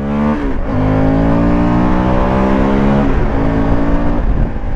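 A Honda Varadero 1000 motorcycle engine revs up steadily, its pitch climbing in a loud, continuous drone with no talking.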